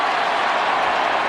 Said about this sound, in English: crowd roaring because Nate Brakeley thought he was in